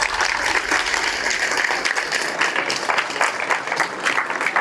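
An audience at a school certificate results ceremony claps steadily for a student being congratulated, a dense, even round of applause throughout.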